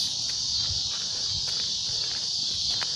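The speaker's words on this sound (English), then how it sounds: "Cicadas!" Cicadas drone in a steady, loud high-pitched buzz throughout an outdoor walk, with faint footsteps and scuffs beneath.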